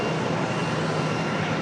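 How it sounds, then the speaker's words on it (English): An Airbus A320 airliner arriving at Charlotte airport gives a continuous, loud, broadband engine roar that holds steady throughout. "comes our next arrival, that A320"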